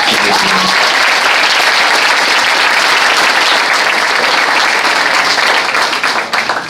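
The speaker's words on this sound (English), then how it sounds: "Let's have a round of applause for that." Loud, sustained audience applause at a high school awards dinner honoring the senior class, dense clapping throughout that starts to thin at the end.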